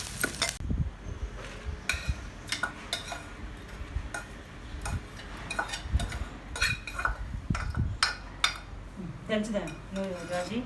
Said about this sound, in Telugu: రోట్లో నూరుకుందాం ఇప్పుడు.